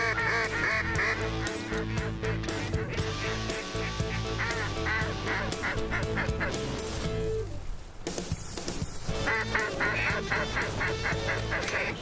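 Geese and other waterfowl honk and call continuously during a waterfowl hunt, a dense overlapping chorus of loud nearby honks with a brief lull midway, then the calling resumes.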